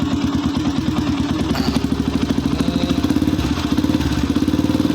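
A Yamaha Vixion supermoto motorcycle engine idles with a fast, even putter, close by and steady, with faint clattering.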